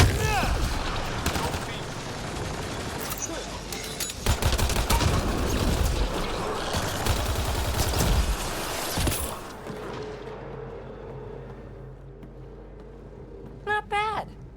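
Gunfire in the video game Mass Effect: Andromeda, dense rapid bursts and impacts filling the first nine seconds with a voice talking over them, then fading to quieter mechanical sounds and brief electronic chirps.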